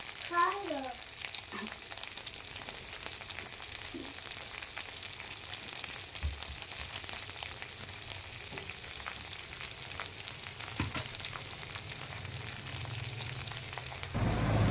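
Chopped onions and slit green chillies fry in a pan for homemade chowmein, a steady soft sizzle up close with occasional stirring scrapes and knocks, fairly quiet throughout.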